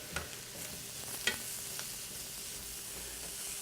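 Mushrooms fry in a pan with a soft, steady sizzling hiss and a few faint stirring taps, quiet and without any voices.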